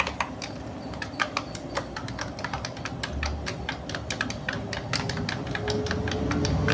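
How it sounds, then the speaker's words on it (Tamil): An address is typed on a computer keyboard in a rapid, uneven stream of close key clicks and taps over steady low room noise. "இப்போ முகவரியை டைப் பண்ணிவிட்டு அடுத்தது உங்களுடைய வில்லேஜ் நேம் என்னவோ அந்த வில்லேஜ் நேமையும் அங்கேயே டைப் பண்ணிக்கோங்க."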